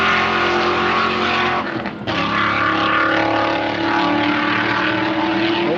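Race cars, including a BMW, roar around a track day circuit, a loud continuous engine drone with a brief dip near the middle before the sound swells again.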